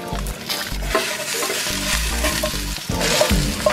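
Possum stew is stirred in a pot on a barbecue, with loud sizzling and frying underneath and repeated scraping, knocking strokes of the spoon against the pot, close up and without talk.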